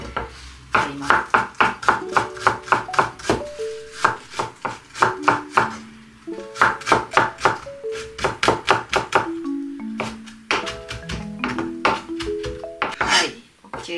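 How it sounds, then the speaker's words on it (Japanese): Rapid, steady knife chops mincing onion on a cutting board, bursts of quick strikes with brief pauses, close and crisp, with no talking. "玉ねぎのみじん切りをするような感じで切ります。"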